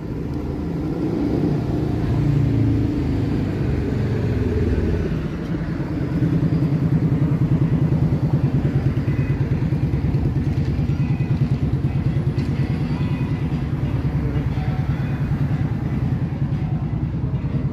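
Loud, continuous engine rumble of motorcycles on a downtown street in Guelph, swelling as they pass close by, with the Doors' Roadhouse Blues played loudly from the motorcycles faintly blended into the noise.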